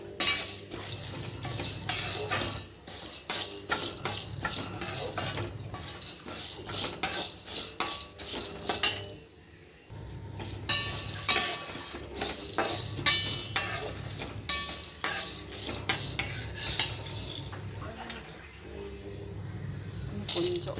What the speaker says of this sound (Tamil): பாருங்கள், ஸ்லோ ஃப்ளேமில் தான் வச்சு அதை வந்து வறுக்கிறேன்.